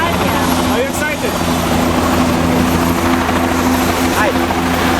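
Helicopter flying with passengers aboard on a sightseeing flight, its loud steady rotor and engine drone filling the cabin continuously, with people talking faintly underneath.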